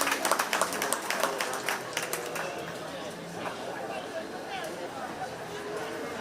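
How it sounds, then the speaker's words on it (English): Audience applause for exhibitors at a county fair 4-H sheep and goat show, a burst of many hands clapping at the start that thins out under steady crowd chatter. "Let's give both of those exhibitors a big round of applause"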